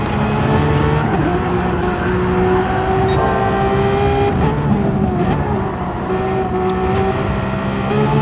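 A Porsche Cup race car in Gran Turismo 7 powers out of a tight corner, its engine roaring loud and steady at high revs, with slight pitch shifts as the throttle is pressed through the exit.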